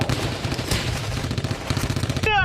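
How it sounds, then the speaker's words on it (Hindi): Bursts of 106 mm caliber rifle fire in a live firing drill, a quick run of loud, sharp reports within a few seconds, heard at a distance. "106 mm कैलिबर राइफल के साथ फायर"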